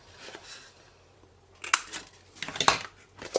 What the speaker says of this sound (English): So just round the corners of the bit.